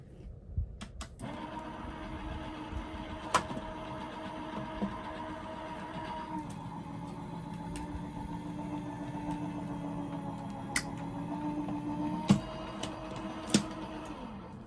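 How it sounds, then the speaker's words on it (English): A die cut machine runs steadily with a humming motor tone, dotted by sharp ticks and clicks from the mechanism, close and moderately quiet with no voices. "let me put this through the die cut machine"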